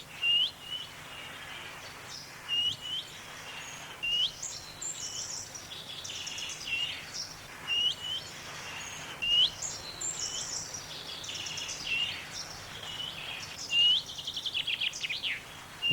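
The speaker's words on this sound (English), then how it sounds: "Now the wren's still going and the willow warbler, but there was a chaffinch singing." Wren, willow warbler and chaffinch sing outdoors, with repeated bright trills and quick phrases overlapping at moderate distance over a faint background hum.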